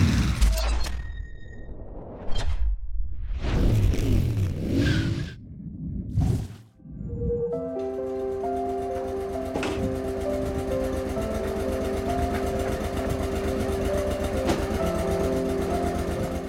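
An adventure motorcycle bought in Norway starts after some rustling and whooshing, then settles into a deep, steady, pulsing engine rumble that holds evenly to the end.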